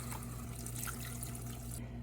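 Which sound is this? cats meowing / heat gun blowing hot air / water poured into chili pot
water poured into chili pot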